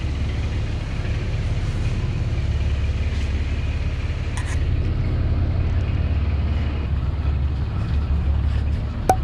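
Supercharged Lexus IS350 engine rumbling steadily at a shop, a deep continuous low drone that swells slightly midway, with faint background clatter.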